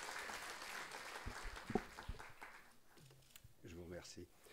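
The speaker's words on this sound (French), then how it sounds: "Sous vos applaudissements." Audience applause at the opening ceremony of an international conference on the economic Francophonie, welcoming a university representative to the podium. It is fairly faint and distant, thinning out as a voice begins speaking near the end.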